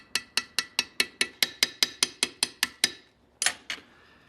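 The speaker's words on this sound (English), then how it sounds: "This little hammer is going to forge the end of this pin so that it's wider than the hole, and that will set the rivet." A small hammer peens the end of a rivet pin in a sharp, even run of about a dozen light metallic taps. A brief pause follows, then two louder strikes close by.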